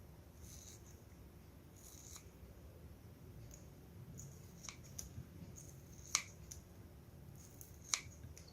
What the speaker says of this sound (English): Slice the dried apricot by scissors.